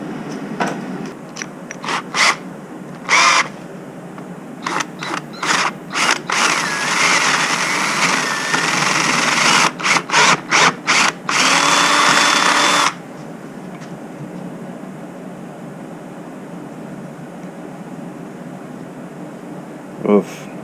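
A power drill bores through a part during a diesel OM603 engine swap into a Ford Ranger, whirring in short on-off bursts and one longer run, with quiet pauses between.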